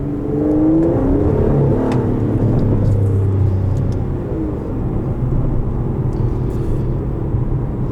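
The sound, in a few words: Aston Martin DB11 AMR twin turbo V12 engine accelerating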